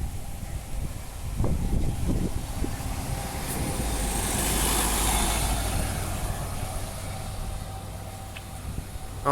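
A bus passes on a road during rail line disruption, its engine drone swelling and fading over several seconds, fairly close and steady with no talk.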